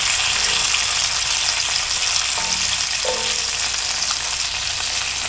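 Bacon sizzles and fries in a pan on a small center stove burner, a dense continuous crackle with occasional stirring, no voices.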